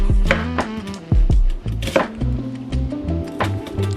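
A knife chops food by hand in a home kitchen during family cooking, giving close, loud, rapid thuds in an uneven rhythm.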